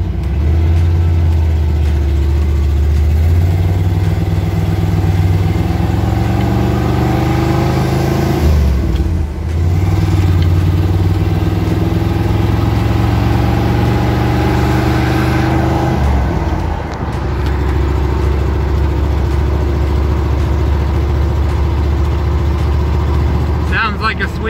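A 1972 Jeep CJ5, restored after sitting long in a backyard, runs with a steady deep engine drone and shifting tone, briefly dipping and rising twice, loud and close throughout.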